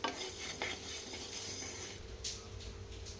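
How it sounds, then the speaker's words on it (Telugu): Coriander seeds dry-roast in a pan, a quiet rattling and scraping as they are stirred, with faint clinks of a utensil against the metal and a soft sizzle underneath. "ధనియాలను వేయించుకోవాలి"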